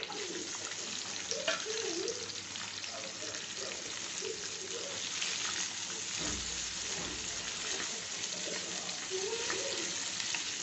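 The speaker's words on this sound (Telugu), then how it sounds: "ఆనియన్స్ వేగనిద్దాం కొద్దిగా" Onions frying in hot oil with mustard and cumin seeds, giving a continuous even sizzle at moderate distance, with faint background voices and occasional stirring.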